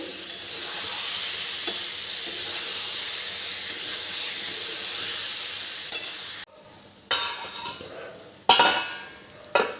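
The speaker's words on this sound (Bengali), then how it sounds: "এবার দিয়ে দেবো ওল দিয়ে আবারও ভালো করে কষিয়ে নেব" Elephant foot yam stirred into a spiced masala in a hot pan for a vegetarian curry, giving a steady loud sizzle and hiss that drops away briefly toward the end, then returns in short bursts as the spatula moves.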